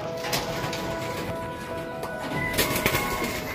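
A racing pigeon coos near a loft at a race homecoming, low soft calls repeating under light background noise and a faint hum, with no clear talk.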